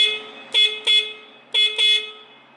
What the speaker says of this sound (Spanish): Y este es el claxon.